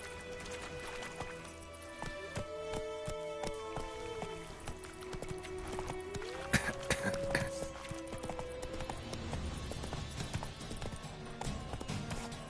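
Hooves of the horse Roach galloping in Witcher 3, a steady rhythmic clip-clop beating on and on, set against music and ambient game sound.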